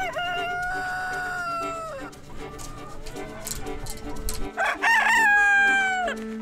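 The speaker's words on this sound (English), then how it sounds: "Roosters are meant to be the confident protectors of the flock." A rooster crows twice on a farm, two loud, drawn-out cock-a-doodle-doo calls, the first early and the second near the end, over steady background music.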